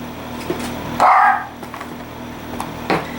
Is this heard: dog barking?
yes